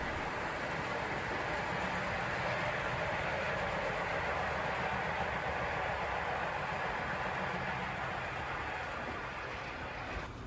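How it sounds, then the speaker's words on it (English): A steady, continuous roar of a passing train, the Flying Scotsman express hauled by LNER steam locomotive 4489 Dominion of Canada in the late 1930s, heard as a broad, loud rushing rumble throughout with no talk. "we have the 10:15 a.m. King's Cross to Edinburgh, the Flying Scotsman, hauled by 4489, Dominion of Canada"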